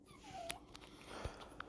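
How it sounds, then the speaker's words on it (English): A puppy squeaking and whimpering while dogs play together indoors, several thin high yips and squeals scattered over quiet background, faint and a little distant. "My dogs are basically playing, or trying to play with each other"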